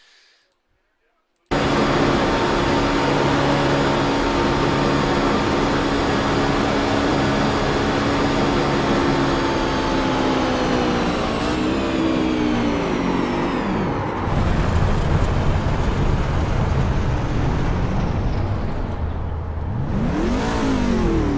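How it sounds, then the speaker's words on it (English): Loud, steady onboard engine roar from a race truck at Daytona, holding a high drone before pitch sags and falters as the engine lets go, then a brief rev near the end; no talk. "We got to go on board with him and check his engine"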